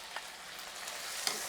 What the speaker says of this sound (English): Lovely sizzle.